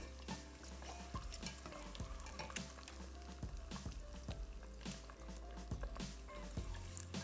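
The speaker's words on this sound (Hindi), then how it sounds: "थोड़ी थोड़ी देर बाद ज़रा सा चम्मच इसको चला दें ताकि राउंड लेके ये अच्छी तरीके से कलर मुख्तलिफ साइड पे इसका कलर आ जाए" A spoon stirs frying meat in a pan over a steady sizzle, with repeated scraping strokes at an uneven rhythm, close and moderately loud.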